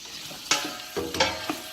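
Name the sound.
onions, sausage and pepperoni being stirred and frying in a pan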